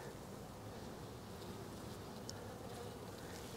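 A close, steady hum of honey bees buzzing around an open hive with a small cluster of bees, continuous and even throughout with no talking.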